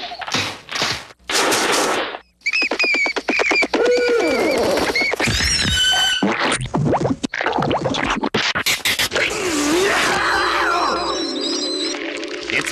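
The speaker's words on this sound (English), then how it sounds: "It's owl feeding time." Cartoon owls call out at feeding time in an animated comedy, a loud, busy run of cooing and hooting bursts broken by short gaps, with scratchy effects and music-like tones mixed in.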